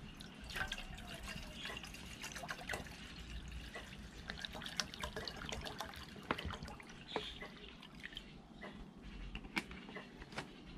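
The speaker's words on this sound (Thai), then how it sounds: "ใส่น้ำไปให้เต็มครับ" Water trickles and splashes steadily into a camping pot on an alcohol stove, about one litre, with small drips and clinks over a quiet, continuous flow.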